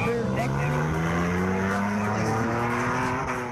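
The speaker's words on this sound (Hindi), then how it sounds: "तारीखी किला दरावड़ गाड़ियों की घनघरट से गूंज उठा।" Jeeps roar past at the 14th Cholistan desert jeep rally by the historic Derawar Fort, a continuous loud engine drone with rising and falling pitch as vehicles accelerate, under a news narrator's voice.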